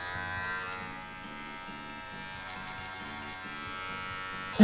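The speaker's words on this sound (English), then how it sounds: "Definitely gonna have to shave a spot on the head for the ears." Electric shaver buzzing steadily while trimming the head of a handmade dog doll, a close, continuous motor hum with slight pulsing as the blade moves, ending in a brief louder bump.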